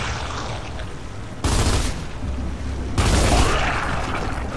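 Heavy, continuous gunfire and explosive booms from Gears of War 2 combat, loud and dense throughout, swelling twice into stronger volleys.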